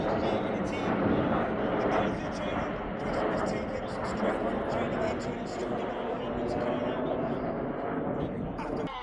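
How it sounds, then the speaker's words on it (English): Supermarine Spitfire flying a display at the RIAT 2024 air show, a loud rumbling piston-engine roar that swells and fades over crowd noise and an announcer's commentary. "this is Spitfire"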